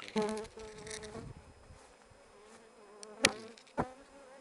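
Honey bees of mixed local stock buzz around hives at a small amateur apiary, several close passes rising and fading over a softer background hum, with a couple of sharp nearby buzzes.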